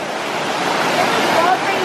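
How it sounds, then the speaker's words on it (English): A waterfall rushes in a steady broadband hiss, close and continuous, with a voice speaking over it. "Look at the waterfall. It's so amazing."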